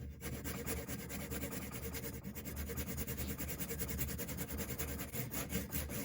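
A fine pocket-size hacksaw cuts a thin slit into a small screw, giving a close, continuous rasping of rapid, even strokes with no talking.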